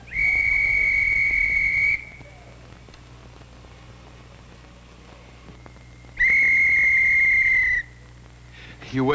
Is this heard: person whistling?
yes